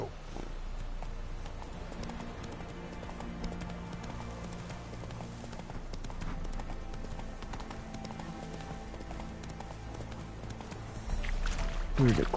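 Roach the horse galloping in The Witcher 3, with rapid rhythmic hoofbeats continuing steadily throughout over a game ambience, with brief voices near the end.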